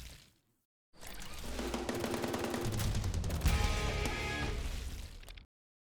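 Scatter gun in the video game Prodeus firing a rapid sustained burst, dense loud crackling blasts for several seconds after a brief pause, with no talk over it.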